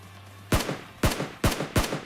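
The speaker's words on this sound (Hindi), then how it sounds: "पहले तो इसे 2 प्यारे से शॉट देते हैं, यहाँ पे एक हेडशॉट पड़ता है और एक बॉडी" Four loud, close gunshots from PUBG Mobile gameplay, fired in an uneven quick series with booming tails.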